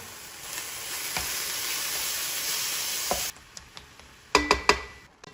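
A cottage cheese mixture cooking down in a pan gives a steady sizzle that cuts out abruptly, followed by several sharp spoon scrapes and knocks against the pan.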